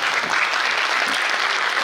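Audience applause at a stage event, dense and sustained clapping from a crowd, loud and close throughout.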